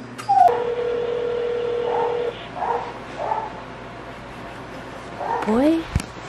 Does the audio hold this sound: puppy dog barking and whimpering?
yes